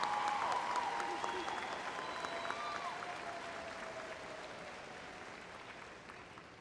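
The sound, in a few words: audience applause at a graduation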